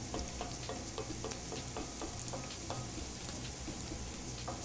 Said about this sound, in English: we're sauteing some ginger, some garlic, and some scallions